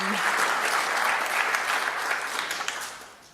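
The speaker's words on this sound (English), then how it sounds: "So a round of applause for yourselves, community members." Conference audience at the OpenWrt Summit applauding, a full burst of dense clapping that stays strong, then thins and fades toward the end as individual claps trail off.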